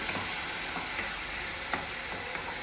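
Onions, salted for an onion chutney, fry in a pan while being stirred, making a continuous dense sizzle with faint scraping strokes, close and even throughout and with no voices.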